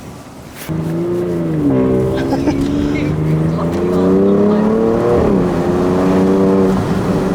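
A modified BMW X3 M accelerates hard from inside the cabin, its engine note climbing and shifting through gears in loud, sustained revving pulls that fill the whole ride.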